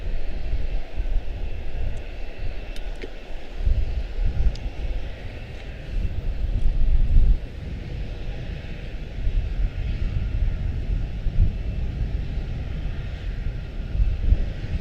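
A Spirit airliner's engines drone steadily while it taxis at Charlotte-Douglas airport, a continuous low rumbling roar with a faint whine on top and no voices.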